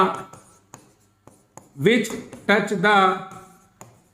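Writing on a board during a class-ten maths lesson on circles, with short scratchy strokes early on, then someone talking over and between them in a classroom setting.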